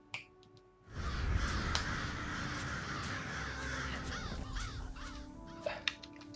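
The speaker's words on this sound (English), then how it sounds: "that's my signal for the crows" Several crows caw loudly over a dense, steady background wash in the video game Elder Scrolls Online, calls overlapping and continuing for several seconds.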